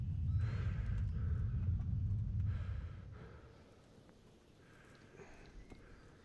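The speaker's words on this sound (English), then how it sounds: "I was trying to get that horse out of there." A horse in the medieval role-playing game Kingdom Come: Deliverance gives a breathy snort and whinny followed by soft hoof sounds, quiet and fading off over a few seconds.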